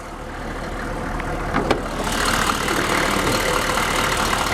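A factory-original 6.5 turbo diesel in a half-ton short-bed truck idles steadily nearby, a low rumbling drone with a slight rise partway through, no talking.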